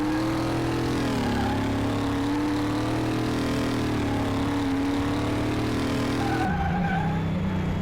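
A car in the Car Mechanic Simulator video game drives with a steady engine drone and tires squealing as it skids through corners, continuous and loud throughout with a shift near the end, no talking.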